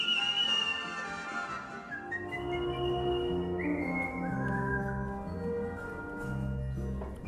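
A person whistles a melody with clear, sustained, pure tones that slide between pitches, accompanied by a softer, lower harmonic backing, steady and close for several seconds.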